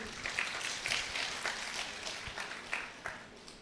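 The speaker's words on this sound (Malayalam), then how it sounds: "കൈയടിച്ച് നമുക്ക്" A church congregation claps together during a prayer service, a quiet, steady patter of many hands with faint peaks, heard at a distance with no voices.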